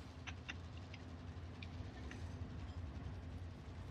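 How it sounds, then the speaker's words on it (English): A train rumbles past with a steady low drone and faint clicks in an online shooter video game, fairly quiet and unbroken. "Oh shit, the train."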